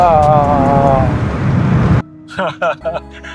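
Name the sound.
Mercedes-Benz W211 M113 5.0 V8 engine roar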